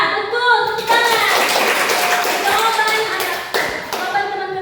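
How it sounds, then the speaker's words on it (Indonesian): Elementary school pupils clap in a classroom, a short burst of hands slapping in a lively patter that fades out, with a teacher's voice over it. "Ya, betul. Tepuk tangan."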